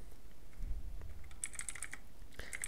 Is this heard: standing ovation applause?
no